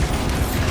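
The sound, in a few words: Bombarda spell blast in video game Hogwarts Legacy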